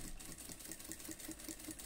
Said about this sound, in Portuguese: Venho aqui embaixo, dou um retrocesso e continuo minha costura.